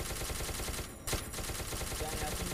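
Rapid bursts of gunfire from the SCP Secret Laboratory video game on a server where players were handed guns, a dense fusillade of loud, continuous shots with a sharper crack near the middle.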